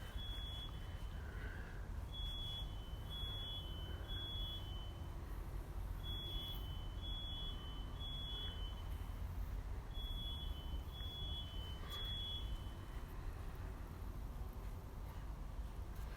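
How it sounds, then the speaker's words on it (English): A car alarm beeps in repeated short bursts of high electronic tones, faint and somewhat distant, with gaps between groups over a low steady background hum. "Sounds like a car alarm."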